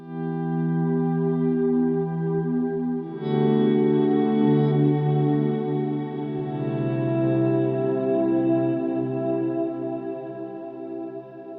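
Guitar run through a pedalboard's basic swell effect, with sustained chords fading in smoothly and ringing with chorus-like shimmer and echo, a second chord swelling up partway through, steady and close with no talking.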